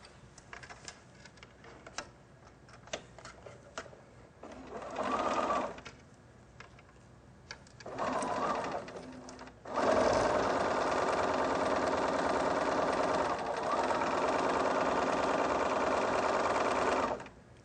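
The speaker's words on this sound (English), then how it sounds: "Now I can sew the other side of the Y." A sewing machine stitches a quilt Y seam up close, with short bursts of whirring and then a long steady run, separated by quiet ticking and handling.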